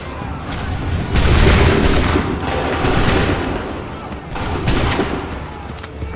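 Ragged musket volleys from Assassin's Creed 3 Remastered crack out in bursts, loud and close, with a sustained barrage around the middle and another flare near the end over battle noise.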